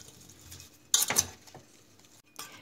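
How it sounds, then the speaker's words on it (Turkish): Pumpkin pieces stirred in a pot on the stove, giving a short burst of scraping and clattering near the middle followed by a softer knock, with quiet kitchen hiss around it. "İyice karıştırıyorum ve pişmeye bırakıyorum."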